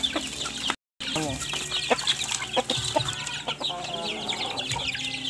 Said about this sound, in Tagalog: Diyan na mga manok. Kasama yung mga manok na yan.